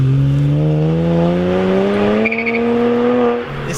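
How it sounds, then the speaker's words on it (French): A BMW 1M Coupé engine roars loud and close as the rear wheels spin, its pitch climbing steadily through the revs before easing off near the end. "on retrouve immédiatement avec la puissance de ce moteur les roues arrière qui patinent en"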